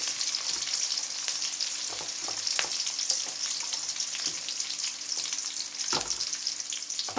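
Onions fry in a pan for a curry, giving a close, continuous crackling sizzle with occasional sharper pops and stirring scrapes, and no one talking.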